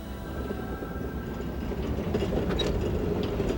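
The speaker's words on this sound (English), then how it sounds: "The cog railway to Schinnige Platte in the Jungfrau region is a slow but exciting journey" A cog railway train climbing slowly toward Schynige Platte in the Jungfrau region of Switzerland, a steady rumble and clatter of the rack drive that grows a little louder, with a few faint squeaks.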